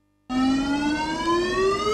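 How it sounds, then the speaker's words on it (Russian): A shopping mall emergency warning siren switches on abruptly and holds a loud, steady, slowly rising electronic wail that fills the building, with no voices over it. "сейчас идет система оповещения в торговом центре. Теперь сирена действительно слышна во всем здании"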